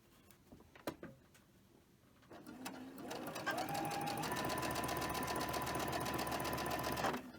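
A sewing machine chain stitches quilt blocks, starting after a few handling clicks and then running at a steady, fast, even hum for several seconds before stopping abruptly, close up.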